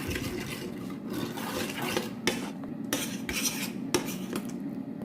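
Spoon stirs and scrapes against a pot as sugar, salt and rice flour are mixed into a sauce for mango sticky rice, with repeated close scraping strokes and clinks, no talking.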